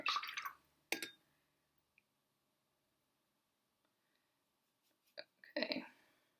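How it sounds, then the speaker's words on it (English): A brush dips and swishes in water while more is added to a watercolor wash, giving a few short wet dabs and splashes at the start and end with near silence between. "I'm going to add more water to my wash here."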